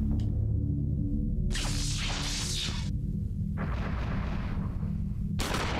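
Gunfire in the video game Eternal Darkness: Sanity's Requiem, two loud booming shots with a bright blast and a long rumbling tail, heard over a constant low droning game score.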